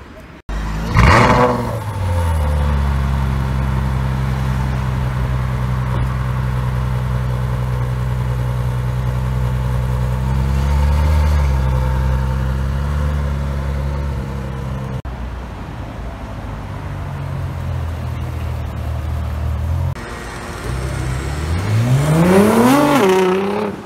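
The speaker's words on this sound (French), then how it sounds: "on est tombé par hasard sur cette Ferrari F12 TDF" A Ferrari F12 TDF's V12 idles with a deep, steady rumble on a Paris street, swelling in a couple of throttle blips and rising revs near the end, close and loud, with no voices.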